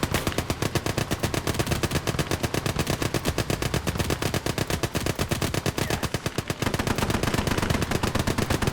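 A .50 caliber machine gun in the World War II game Gates of Hell hammers out long, rapid, continuous bursts of loud, evenly spaced shots filling the whole stretch, with no voices over it.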